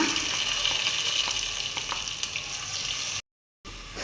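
Onion goes into a pan of frying garlic, giving a steady, loud sizzle with faint stirring scrapes throughout, broken by a brief silent gap near the end.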